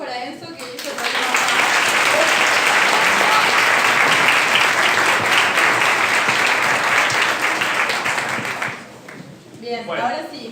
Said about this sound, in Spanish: un aplauso para Enzo que hizo el problema.